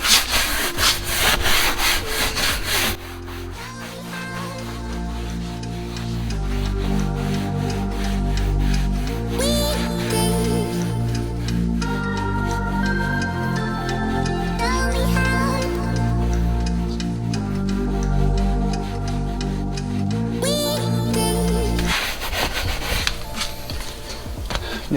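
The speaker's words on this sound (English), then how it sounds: "horsehair brush. Maybe on the seat also." A horsehair brush scrubs a leather car seat treated with Chemical Guys leather cleaner, giving continuous rhythmic rubbing strokes that are close and fairly loud, with no talk.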